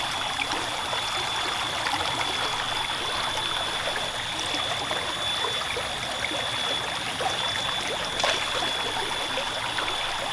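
A swollen stream runs steadily past, giving a constant close rush and trickle of water that stays even and unbroken throughout, with no voices.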